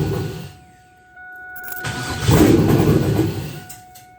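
Car with an LS-swapped engine cranking and catching, then settling into a loud, rough idle at close range, with a broadband exhaust rumble building midway and holding steady.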